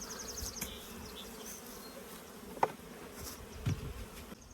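Honey bees buzz steadily around an open hive, a soft continuous drone with some nearby fly-bys. There are a few faint handling knocks and no speech.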